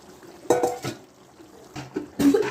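Spoon stirring prawn gravy with coconut milk in a pan, giving a few soft scraping and clinking strokes with quiet gaps between them, close by and fairly faint.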